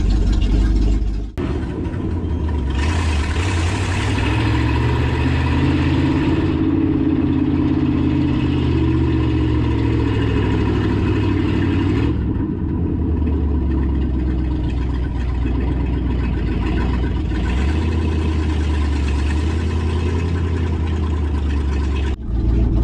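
A 1967 Chevy C30 truck engine starts and runs, giving a loud, steady close-up drone for about twenty seconds with slight shifts in pitch and no talking over it.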